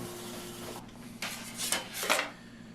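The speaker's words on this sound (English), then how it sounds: "I'm going to take it to the sander and make it nice and flat" A walnut board is pressed against a power sander to flatten it, giving a faint hum and then several rising bursts of rough abrasive rasping, each one louder than the last, over a short stretch.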